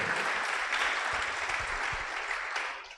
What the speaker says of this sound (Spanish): dele fuerte el aplauso si usted lo cree